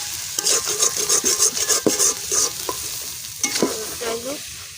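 Taro stem and sea fish curry frying in oil in a pot, with repeated loud scraping stirs over a bubbling sizzle, close by, then quieter frying toward the end.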